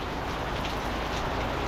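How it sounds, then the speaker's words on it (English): Rain falls steadily in Bergen, Norway, a dense, even hiss of drops that continues without a break, loud and close, with no voices. "So we decided to stop at the aquarium since it's raining anyway."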